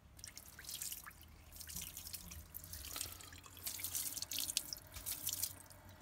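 Running tap water rinses freshly cleaned limpets at the sink, with a steady splashing flow and drips throughout, close and moderately loud, no talking.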